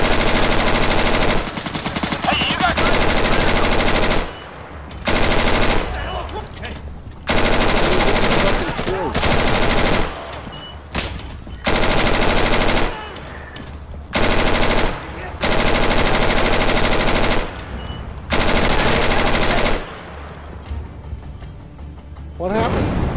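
Gunfire in the video game Insurgency: loud, close automatic bursts fired in long volleys separated by short pauses, with voices talking over parts of it.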